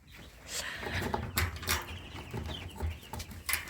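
Chicks cheeping and clucking close by, with scattered rustling and handling noises throughout.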